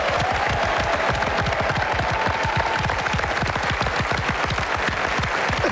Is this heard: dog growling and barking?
no